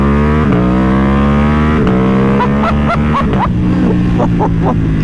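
A custom Ducati Panigale V2 motorcycle accelerates hard and loud, its engine note climbing through several quick gear shifts with sharp pops in between, close to the listener.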